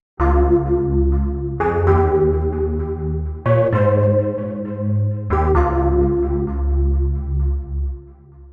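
A slap house synthesizer preset called Mercury plays rich sustained chords, four swelling notes each struck sharply then held and decaying, loud and alone with no talking.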